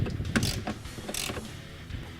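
A 17mm socket tightens a bolt on a 2017 Ford F-150 EcoBoost 3.5L during an oil separator install, giving a close series of ratcheting clicks and mechanical creaks, uneven in rhythm, with no talk over it.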